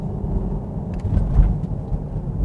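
A 2021 Jeep Grand Cherokee L SUV with all-wheel drive corners, its engine humming steadily with low road rumble heard from inside the cabin, swelling slightly midway.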